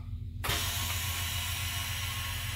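After a brief quiet moment, an engine block leak tester for castings ends its cycle with a sudden loud release of hissing air, then a steady mechanical whir and hiss that runs on to the end.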